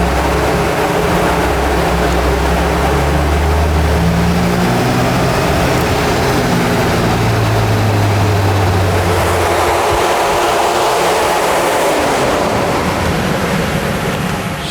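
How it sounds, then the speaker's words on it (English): An old car engine, about forty years old, runs lean and pinking on a dyno, giving a loud steady roar with rising then falling tone and no talk over it. "She's a little bit lean and she's pinking"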